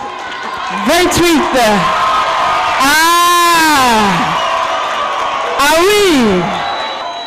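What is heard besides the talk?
audience applauding and cheering at spelling contest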